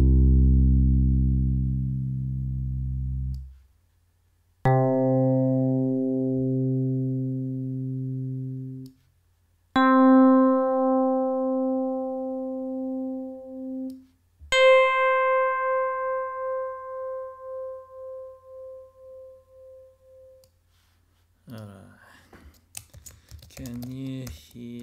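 Single sustained notes from the Dexed DX7-style FM synth plug-in's E.PIANO patch ring out one after another, each decaying with bell-like overtones at a clear, close level, followed by a short burst of keyboard clicking at the end.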